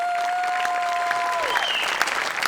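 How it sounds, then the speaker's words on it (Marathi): A studio audience at a Marathi TV comedy show breaks into loud, sustained applause: dense clapping fills the room, and a few brief musical tones sound over it. "त्याकरता तुझ्याकरता जोरदार टाळ्या"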